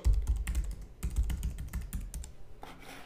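A computer keyboard clatters under quick, irregular keystrokes as a username and password go in, close and fairly soft, with brief pauses between bursts.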